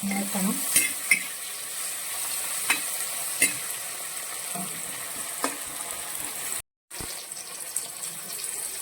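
Tomatoes fry in hot oil in a pan for a spicy chicken curry, giving a steady close sizzle broken by scraping stirs and a few sharp clicks of a spoon against the pan, with a brief pause near the end.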